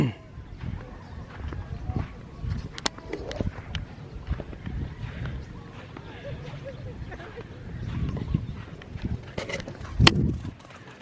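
A dog runs across white sand on Tondol Beach, Pangasinan, Philippines, her rapid soft paw thuds drumming like a galloping horse, close by over a faint beach background with a voice briefly heard.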